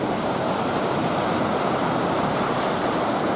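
Brown lake water crashing against the shore at Pictured Rocks, heard as a steady, loud wash of surf with wind noise, continuous and close, with no voices.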